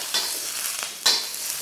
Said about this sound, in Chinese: 煸炒，先把这个甜豆炒香。